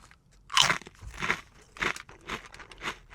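Loud, close crunching of Ruffles Flavor Swap Doritos Cool Ranch chips, five or six separate bites and chews spaced through a few seconds with quiet gaps between, no talking.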